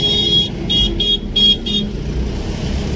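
Car horns honk in a quick run of short toots over the steady rumble of engines on a packed, jammed street, with heavy traffic noise throughout and no talk.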